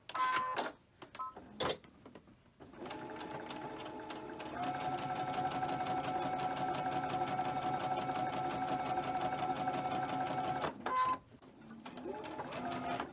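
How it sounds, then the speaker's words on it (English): A sewing machine stitches quilt block fabric in a long steady whirring run, preceded by a few short bursts and followed by one more, with brief pauses between. "Back to my sewing here."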